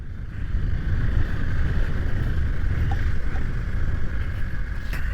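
A motorcycle built for off-road riding runs over rough terrain in the Ayodhya hills. Its engine gives a steady, close, low rumble, blended with wind noise, for the whole stretch.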